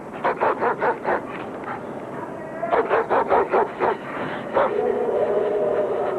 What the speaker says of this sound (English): They had a dog on a chain, a huge German shepherd, barking his head off at me.